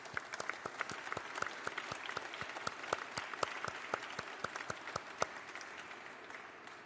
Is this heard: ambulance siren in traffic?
no